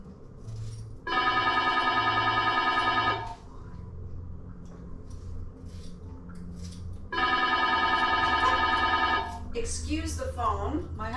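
A home telephone in a kitchen rings in two loud, bright bursts of rapid trilling about six seconds apart, with a low steady background hum between the rings.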